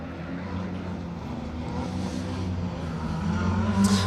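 The Vauxhall Astra rally car, number 48, runs a night stage at Donington Park, its engine a steady droning rumble that swells gradually louder as it approaches.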